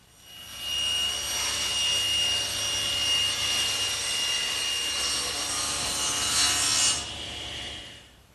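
A table saw rips plywood into long strips, the blade's high whine rising as the cut begins and holding steady and loud for several seconds before the cut finishes and the sound drops away.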